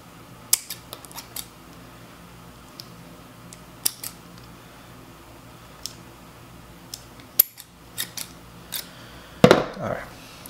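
Sparse, crisp scissor snips through paper sound at irregular intervals against a quiet background, a handful of short sharp cuts with a louder clatter near the end.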